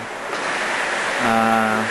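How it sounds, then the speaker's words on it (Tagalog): Strong wind from Typhoon Milenyo over San Pablo City in 2006, strong enough to make a house roof shake: a continuous, loud, rushing roar that swells slightly toward the end, with no pauses. "Medyo malakas-lakas ang hangin, yung bubong namin gumaganon."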